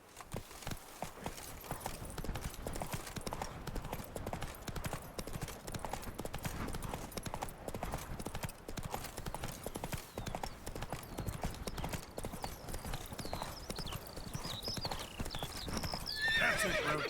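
Roach the horse from The Witcher 3: Wild Hunt galloping hard, dense continuous hoofbeats throughout with neighing toward the end, loud and close, over game ambience.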